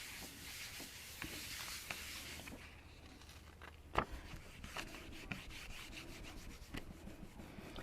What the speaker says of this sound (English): Pushing harder with my thumb knuckle to get all that wet Titan Buff paint to kind of marry up with that dry multicolored stuff down there and clean my plate